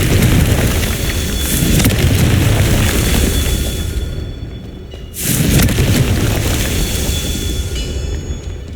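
Confringo blasting spell in Hogwarts Legacy, a loud, close rumbling explosion that roars, breaks off briefly, then bursts again into a second sustained boom with crackling debris.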